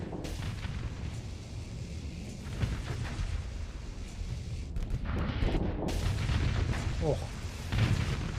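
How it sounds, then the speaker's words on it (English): Missile volleys in Stellaris with the United Aurora Federation mod: continuous rumbling launches and booming impacts layered densely at moderate level, with a brief spoken exclamation over them. "These missile volleys are sick, by the way."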